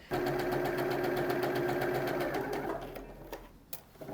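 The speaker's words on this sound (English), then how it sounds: "this is the first bit of stitching that we've done since we did the tack and stitch on the pleat front" A sewing machine stitches a garment seam at regular stitch length, a fast steady mechanical whir with rapid rhythmic needle ticks, close and loud, slowing and trailing off into a few clicks near the end.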